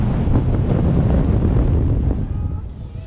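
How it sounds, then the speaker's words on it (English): Strong wind buffets the microphone at an amusement park in a steady, loud rumbling roar that eases off slightly toward the end. "It's windy."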